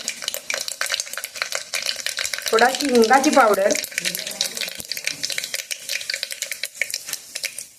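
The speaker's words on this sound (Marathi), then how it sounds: "रेग्युलर फोडणीमध्ये मोहरी थोडंसं जिरं" Hot oil crackles and sizzles steadily as mustard seeds and cumin are tempered in it, while someone talks over the sizzle.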